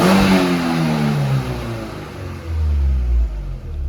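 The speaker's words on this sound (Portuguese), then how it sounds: "Deixa eu dar uma acelerada aqui pra gente ver." A freshly rebuilt car engine, after a complete engine overhaul, revs up loudly and then drops back, with a second rise near the end, close to the microphone and heard alone without any talk.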